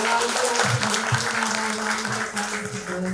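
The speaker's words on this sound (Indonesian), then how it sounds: "berikan tepuk tangan untuk mempelai yang berbahagia" Applause rings out for the bride and groom at a Christian wedding ceremony, a steady, full crowd clapping that carries evenly throughout with a faint hum beneath.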